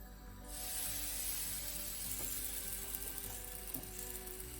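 A roti fries in a pan for Sri Lankan kottu, giving a steady, close sizzle that swells in just after the start and holds on, with a few faint clinks and no voices.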